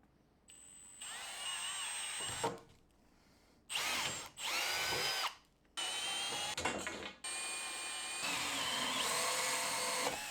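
A power drill bores a hole through a steel angle plate in several loud, whining bursts separated by short pauses, the pitch shifting as the bit cuts.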